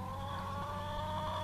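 Chickens, including a Silkie, cluck softly in a farm setting, a faint, brief murmur of fowl calls over a steady background hum.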